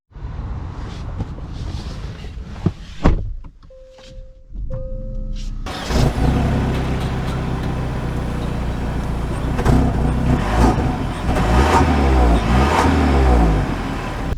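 A 2024 Genesis GV70 2.5T pulls away after a quiet interior with a brief electronic tone, its engine note settling into a steady, close drone that swells and rises toward the end.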